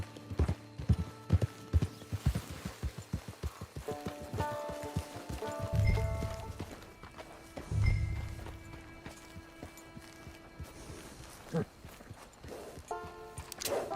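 Horse hooves clip-clop in Red Dead Redemption 2 Online, a steady run of hoofbeats that slows and thins out, with a couple of louder thumps partway through; a voice speaks briefly over them.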